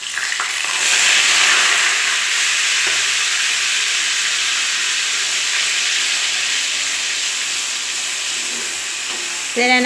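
A ground paste of two large onions, a garlic clove and a small piece of ginger frying in a pan for tomato thokku, giving a loud, steady, close sizzling hiss that holds for several seconds.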